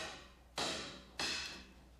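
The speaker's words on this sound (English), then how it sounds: "create the groove with a nomi" Nomi chisel cutting a groove in wood, with two sharp struck cuts spaced about half a second apart, each followed by a short decaying ring.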